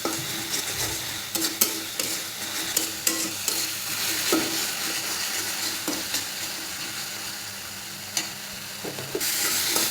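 Salt, turmeric and chili powder being stirred in a hot pan while cooking chicken: a steady sizzle with repeated scraping strokes of the spoon against the pan, loud and close, with no talking.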